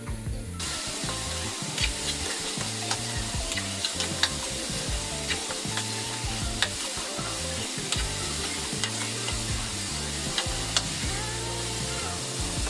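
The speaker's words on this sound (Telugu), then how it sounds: "ఉప్పు వేసుకున్న తర్వాత మొత్తం అంతా ఫ్రై చేసుకోవాలి" Salted cucumber pieces fry in a pan, giving a loud, dense, continuous sizzle with occasional faint utensil taps. The sizzle is close and steady throughout, with no speech.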